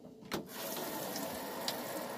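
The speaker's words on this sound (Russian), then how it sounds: "Вот горячая вода идет." Hot water from a boiler runs steadily from the shower of a 1997 Bailey Ranger 520/5 caravan, a close, constant hiss of flowing water after a brief knock as it starts, with no voices.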